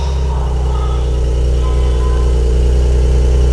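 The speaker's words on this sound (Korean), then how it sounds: "배기음이 어때요?" A new Porsche 992 sits idling, its exhaust giving a deep, steady low rumble that holds even and close throughout, with no voices over it.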